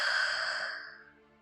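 A sleeping man breathes out in a soft, drawn-out exhale that starts close and fairly clear, then fades gradually to near silence.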